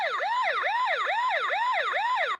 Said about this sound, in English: And home base sound.